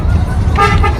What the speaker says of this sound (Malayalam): ഇവന് ഇവിടുന്ന് ഹോൺ അടിക്കുന്നു.